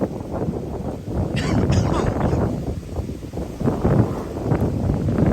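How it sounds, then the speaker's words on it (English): Strong wind gusts outdoors in a spring vegetable garden with planters, roaring and buffeting the microphone as a loud, continuous, rumbling rush throughout. "Golly, the wind."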